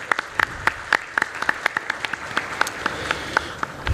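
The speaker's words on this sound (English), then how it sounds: "let's have a round of applause for such an eminent speaker" Applause at a business IT conclave for an eminent speaker: a moderate crowd claps with distinct, sharp individual claps standing out in a fairly regular rhythm over a softer bed of clapping, continuing steadily throughout.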